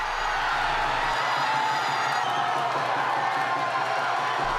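A crowd of Korean fans at a public viewing of a football match roars for a Son Heung-min goal, a dense, sustained wall of cheering and shouting that holds steady throughout.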